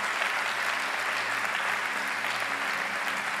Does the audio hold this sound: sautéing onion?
no